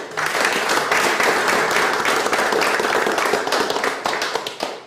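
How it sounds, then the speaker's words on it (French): Sustained, loud applause from an audience at a workplace award ceremony for a monthly productivity prize, dense clapping filling the room steadily before tapering slightly at the end. "Donc félicitations, on applaudit."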